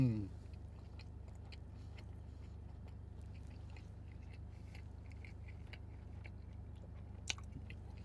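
Close, wet chewing of a McDonald's breakfast McGriddle sandwich during a mukbang, soft mouth sounds and small bites over a steady low hum, with no talking.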